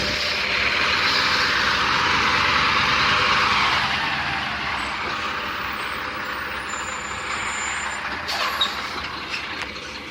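A truck with air brakes delivering a U-Pack moving trailer to a house: a loud, steady engine rumble that eases off halfway through, with a brief sharp hiss near the end.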